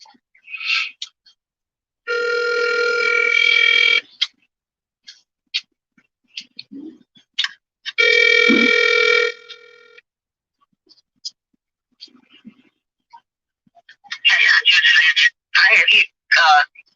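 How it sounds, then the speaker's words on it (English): Outgoing phone call ringing tone from a phone placed during a live stream, two long electronic ring bursts with a pause between, with brief speech fragments and other voices around them. "Let me call Queen back on the phone."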